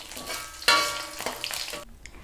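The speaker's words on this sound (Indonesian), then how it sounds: "tempe sama ikan asinnya udah digoreng matang" Tempeh and salted fish fry in oil in a wok, with a continuous sizzle broken by a sharp stirring scrape and a few metallic clinks of the utensil against the pan.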